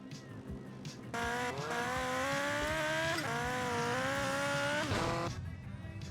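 A car in GTA Vice City Stories on PS2 revs and accelerates hard, its engine whine climbing loudly in pitch with brief gear-change dips, rising from a lower idle and then dropping back near the end.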